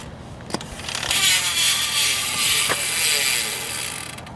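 Ratcheting freehub of a dirt jump bike wheel spinning nearby, a fast, steady buzzing clicking that swells after a couple of sharp knocks and holds for several seconds, no talk.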